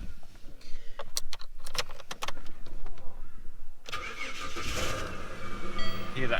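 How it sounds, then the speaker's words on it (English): A Ford Falcon's Barra engine cranks and catches after some jingling clicks, then roars loud and close with a broad, sustained rev. "Hear that Barra roar"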